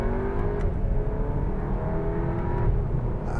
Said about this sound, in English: let's get around this cyclist, give it some